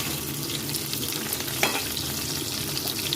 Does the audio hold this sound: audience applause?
no